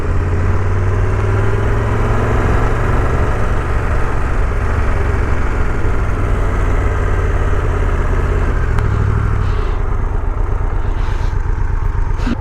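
A Triumph Tiger 1200 GT Explorer motorcycle rides at low speed along a small suburban street, its big engine giving a steady, loud, close rumble throughout. The note deepens briefly near the end, with no voices.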